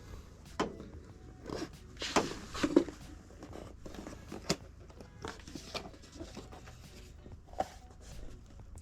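An AliExpress parcel holding fishing lures is opened up close, with quiet crinkling, tearing and rustling of packaging in scattered bursts against a soft background hum.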